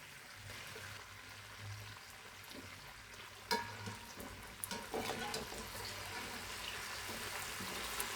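Barbecue meat cooking in a covered pan, a low, quiet sizzle that jumps at a clattering knock as the pieces are flipped, then continues slightly louder with scattered spatters.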